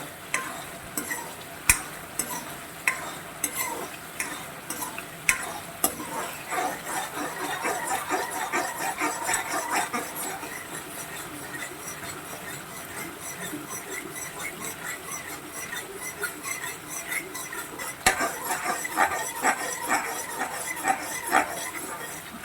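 Thiruvathirai kali being stirred in a pot, with repeated sharp scraping and knocking strokes of a ladle over a soft background hiss, close and moderately quiet, with no talk.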